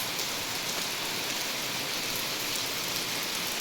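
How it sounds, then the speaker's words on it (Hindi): Heavy early-morning rain falls outside in the hills, a dense, even hiss of downpour that stays steady and close with no voices. "अभी सुबह के 6 बज रहे हैं और बाहर बारिश देखो कैसी लगी है।"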